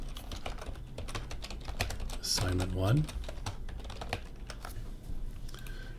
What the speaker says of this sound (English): I'll do the first little typing in.